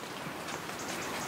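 Rain falls on a grey, rainy day in Winchelsea, a steady close patter of drops on surfaces forming an even wash of hiss that runs the whole time with no one speaking.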